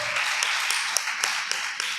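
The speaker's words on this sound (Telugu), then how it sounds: "గట్టిగా చప్పట్లు కొట్టి ప్రభుని స్తుతించు. బిగ్గర కొట్టు." A church congregation clapping loudly in praise of the Lord: steady, rhythmic claps at a regular beat, fairly close, over a diffuse roomy wash of hands.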